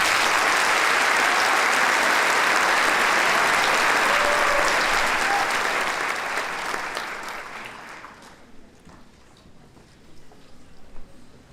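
Graduation ceremony crowd at a high school giving loud, sustained applause that fills the hall, then fades over several seconds into scattered claps and quiet room murmur.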